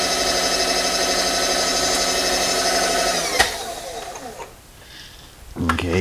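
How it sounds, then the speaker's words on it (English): A drill press bores quarter-inch pilot holes in metal for a roller kit build, giving a steady high mechanical whine that cuts off partway through, followed by quiet and a brief clunk as the machine starts again. "now we're going to put in next size drill"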